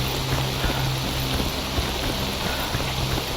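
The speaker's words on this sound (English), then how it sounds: "Ooh, raining out here." Steady rain hisses and patters densely on surfaces in the video game S.T.A.L.K.E.R. Anomaly, an unbroken wash of droplets with faint low rumbling underneath and no voices.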